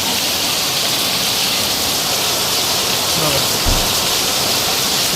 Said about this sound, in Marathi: इकडे जोरदार पाऊस चालू आहे बघा